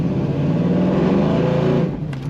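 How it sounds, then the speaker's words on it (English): A 1970 Chevrolet Camaro coupe's engine revs hard under repeated throttle, a loud, close, continuous roar with a steady low rumble that eases off near the end. "I really just want to keep hitting the throttle to hear it."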